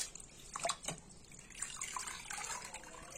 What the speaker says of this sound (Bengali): শাকটা আগে ধুয়ে নেই পরিষ্কার করে।